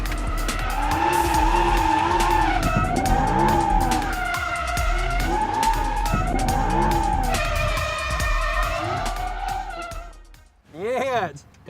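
A Liberty Walk-bodied Lamborghini Huracan drifts and spins donuts at a motorsport festival, tyres squealing loudly in long wavering howls over a roaring engine, ending with a brief rev burst.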